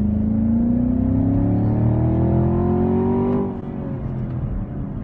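A 2020 Chevrolet Camaro 2SS with its 6.2-liter LT1 V8 accelerates hard on the road, its loud engine note climbing steadily in pitch for several seconds before easing off into a lower cruising drone.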